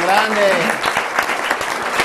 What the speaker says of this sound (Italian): un applauso a Sergio